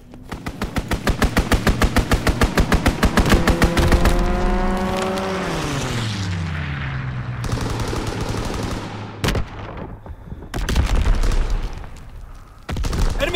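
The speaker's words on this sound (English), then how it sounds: "Fighter pilot inbound. Strafing the target." A fighter plane strafing with machine guns in the World War II shooter Call of Duty WWII: a long, loud, rapid, evenly spaced burst of gunfire as the aircraft engine roars past and its pitch drops, followed by scattered explosions and further shooting.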